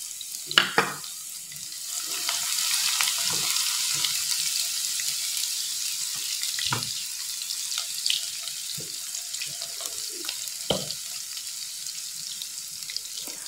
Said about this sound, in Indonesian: Jika sudah panas, bisa kita masukkan irisan bawang merah dan bawang putih